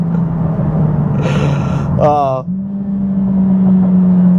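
A Mercedes A45 AMG engine drones steadily, rising briefly in a sharp revving burst with crackling pops before settling back into a loud, constant hum.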